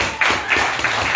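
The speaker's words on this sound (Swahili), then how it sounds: "Tumpigie makofi mazuri" A congregation clapping at a church service, a short run of rhythmic, evenly spaced claps, close and loud.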